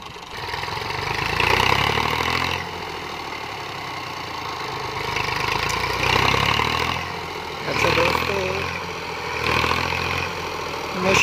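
A close, low Massey Ferguson 240 tractor engine rumbles and repeatedly surges louder in labored bursts, revving hard while hauling a loaded trolley through deep sand.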